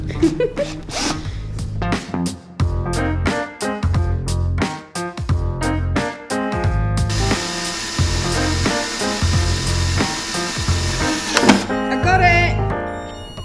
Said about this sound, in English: I'm going to try and drill it out.